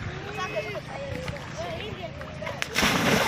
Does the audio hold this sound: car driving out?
no